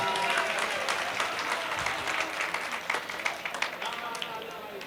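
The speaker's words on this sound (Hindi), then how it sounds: "जोरदार ताली बजाइए" Audience applause fills an All India mushaira poetry gathering in Kamthee, Nagpur: dense, steady clapping from a large crowd that carries on without a break, fairly distant and even in level.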